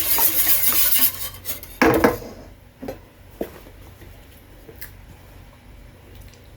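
Spoon scraping and clinking against a pot of chicken and dumplings made with milk, set off the heat: a dense rush of stirring at first, then sparse, sharp taps and knocks.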